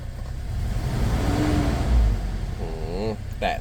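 A Toyota Fortuner engine with a misfire from rat-chewed wiring revs up, rumbling unevenly and close, with a wavering, rising pitch near the end; a voice speaks over it.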